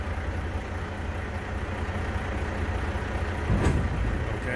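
A semi truck tractor idles and reverses beneath a trailer, a low steady engine rumble that swells slightly near the end with a brief sharp clank, close and moderate in level, with no talking.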